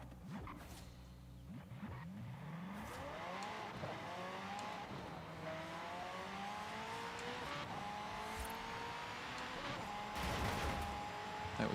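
A classic car engine in Forza Horizon 5 climbs through rising, growling revs with shifts, and tires squeal in brief bursts, steady and close throughout.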